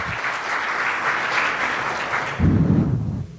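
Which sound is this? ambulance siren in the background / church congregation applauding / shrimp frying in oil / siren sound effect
church congregation applauding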